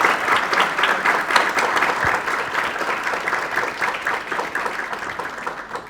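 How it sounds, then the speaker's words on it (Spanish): Loud, sustained applause from an audience at a panel discussion on employment in El Salvador, dense clapping holding steady for the full stretch before tapering slightly. "Por favor, un fuerte aplauso para los invitados."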